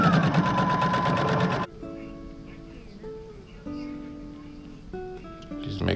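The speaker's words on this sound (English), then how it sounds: "You hold down those seams on top of each other as you sew over them." A sewing machine stitches quilt strips over joined seams, running in a loud steady buzz that stops abruptly, followed by quieter clicks and hum.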